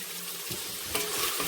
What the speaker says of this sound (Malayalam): സബോള ഇടാം ജസ്റ്റ് ഇളക്കി കൊടുക്കാം ഉപ്പിട്ട് കൊടുക്കാം